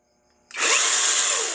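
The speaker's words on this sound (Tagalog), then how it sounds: "dito sa chainsaw na to is kahit anong battery ni Tanzu na meron kayo is pwede" A Tanzu 21-volt cordless chainsaw motor kicks on suddenly after near silence and runs loud and steady, whining close by.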